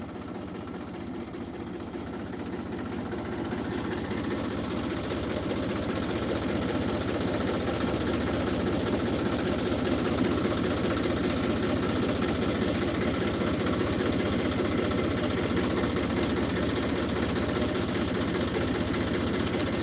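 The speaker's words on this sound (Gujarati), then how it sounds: "આ તો ટ્રેક્ટર ઘડી ચાલુ કર્યું હતું" A tractor engine runs nearby, a steady, rough, knocking drone that builds slightly over the first few seconds and then holds evenly throughout, with no one talking.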